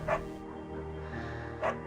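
Two short barks from a beagle in the video game Firewatch, one at the start and one near the end, heard over a low steady background.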